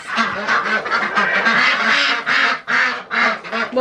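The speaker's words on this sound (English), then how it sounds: "All the ducks." A crowd of ducks quacking inside a coop on a cold winter day, loud, close and nonstop, with overlapping nasal calls rising and falling in quick clusters.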